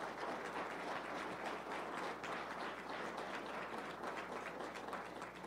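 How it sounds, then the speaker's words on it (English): A hall of fame ceremony audience gives a sustained round of applause, many hands clapping in a dense, fairly distant wash that runs unbroken from start to end. "One more round of applause for Mr."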